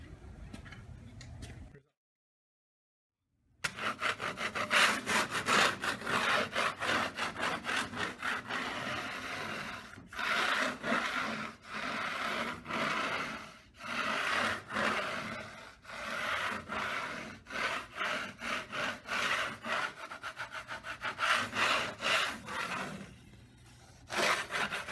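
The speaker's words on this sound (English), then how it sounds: "All you have to do is scrape off any high edges." A scraper rasps over a dried first skim coat on a wall, knocking off high edges in repeated, rhythmic close-up scraping strokes, broken by a brief silence near the start.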